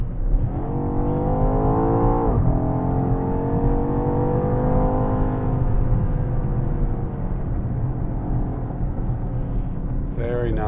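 BMW X6M Competition SUV driving a twisty road, its engine droning and rising loudly from inside the cabin, with a brief shift dip partway through and a sharper change near the end.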